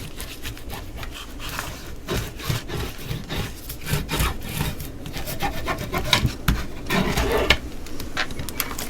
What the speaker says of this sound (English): I'm going to flip this and burnish it